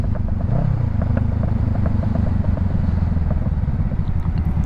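A Honda CBR500R motorcycle with a Coffman Shorty exhaust idles or runs steadily, a low throaty drone that stays loud and constant throughout with light wind noise, no talk.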